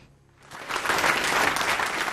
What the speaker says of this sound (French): C'est un tonnerre d'applaudissements qu'a reçu le couple présidentiel samedi lors de son entrée dans cette salle polyvalente